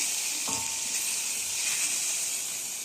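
Ingredients for a home breakfast fry in a pan with a steady, close sizzle and a brief stirring scrape, with no talking.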